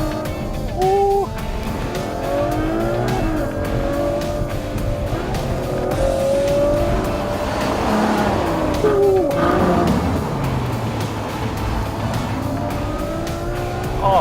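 A Ferrari GTC4 Lusso's naturally aspirated V12 revs hard through a bend, rising and falling in pitch as it accelerates, loud and close with tire noise mixed in.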